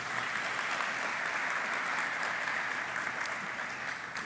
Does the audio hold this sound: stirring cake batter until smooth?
no